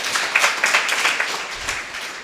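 Applause and clapping from a congregation during a Sunday church worship service in Macherla, a steady crackling patter of many hands that swells and fades over two seconds, with no talk over it.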